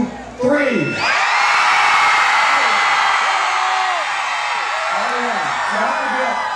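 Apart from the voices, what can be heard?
Riverfest crowd screaming loudly on cue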